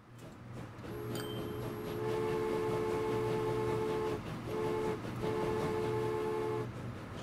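A train hums steadily through a Transport Fever game, joined by sustained tonal horn-like notes that break off briefly and then resume, with no talking.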